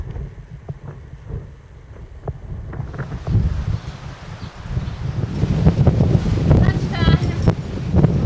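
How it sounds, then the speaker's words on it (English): Gusty wind buffets and roars against the microphone during a motorcycle ride toward New Mexico on the Trans American Trail, building louder and rougher over time, with a voice speaking faintly underneath. "The wind is getting worse."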